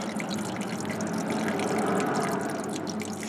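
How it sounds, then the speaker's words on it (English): Water runs and trickles steadily at close range from a Ford Cortina MK3 engine with a blown frost plug, a continuous gurgling flow with faint drips and no voices. "heard water running, turned the hose off, could still hear water running"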